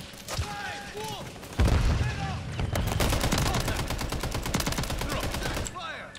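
Rapid automatic gunfire from the Call of Duty Modern Warfare 3 multiplayer game rattles in dense, continuous bursts, joined by a heavy boom. Voices talk over the shooting throughout.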